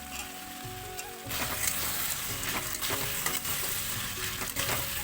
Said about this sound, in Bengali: কেটে রাখা আলুগুলো এবার ভালো করে ভেজে নেব